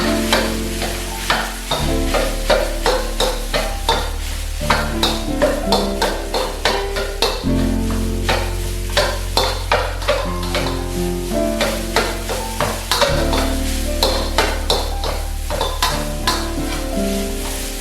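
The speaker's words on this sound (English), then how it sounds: "we're going to stir fry this for about 2 to 3 minutes by itself" Cooked rice is stir-fried in a hot pan, with a loud, constant sizzle. A spatula scrapes and tosses in a quick, regular rhythm close by.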